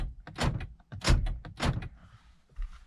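Power door locks on a 2014 Toyota Prius V clunk several times in quick succession, three strong mechanical thunks followed by a softer, fainter click near the end, close by with no talking.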